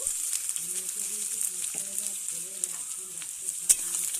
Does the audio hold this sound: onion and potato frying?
yes